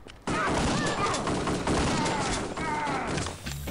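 Rapid, dense gunfire in the video game Kingpin: Life of Crime, loud continuous shooting and impacts filling nearly the whole stretch.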